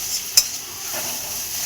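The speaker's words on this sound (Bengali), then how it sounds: "এবার এই মশলাটা আমি ভালো করে কষিয়ে নেব" Spice masala with cumin powder, coriander powder, chili, salt, sugar and chopped tomato fries in oil for a soybean curry, a steady close sizzle with one sharp clink of a spoon against the pan.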